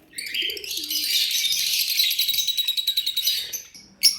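Pigeons coo and chirp continuously at close range, a dense overlapping chorus with a brief flutter near the end.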